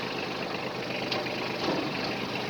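Yanmar F155 Japanese mini tractor with a 120 cm rotary tiller, its diesel engine idling in a steady, even near rumble with a light mechanical rattle, no voices over it.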